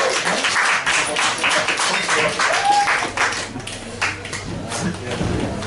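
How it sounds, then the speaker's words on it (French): Audience applause at a French-language poetry evening, a steady wash of clapping filling the room with chatter mixed in. "On va l'applaudir encore une fois"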